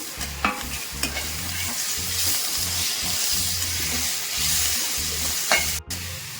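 Onions and tomatoes sizzle and crackle in hot oil, with steady frying hiss and occasional stirring scrapes and clinks close by.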